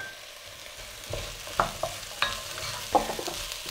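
Ingredients for Turkish lentil soup sautéing in a pot: a low sizzle with a few sharp scrapes and clicks of a spoon stirring, close and brief, without talking.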